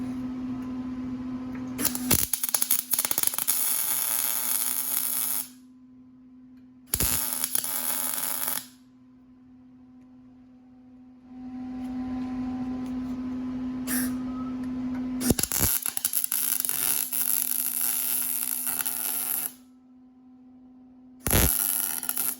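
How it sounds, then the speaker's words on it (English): An electric welder joins a bracket to a metal bar in bursts of loud buzzing crackle separated by pauses, over a steady underlying mains hum, heard close with no talking. "So I'm actually just gonna weld this right here to this bar."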